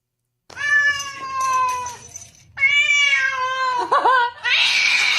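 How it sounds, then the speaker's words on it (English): A cat meows loudly and plaintively in two long drawn-out wails close by, the second breaking into a strained cry, with no talk over it. "Oh, poor kitty. You gotta give him cuddles too."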